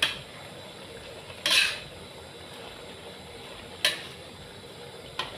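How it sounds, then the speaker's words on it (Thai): A spatula clanks a few times against a pan while stir-frying a sweet and sour dish with spring onion and chili, with three sharp metallic strikes over a quiet background and little audible sizzle. "ผัดรวมกันค่ะทุกคน"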